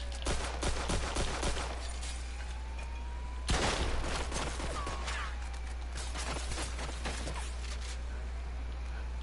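Gunfire tearing into a local business in Mafia 2, rapid bursts of shots with crackling debris over a steady low hum, fairly loud, with a pause between volleys.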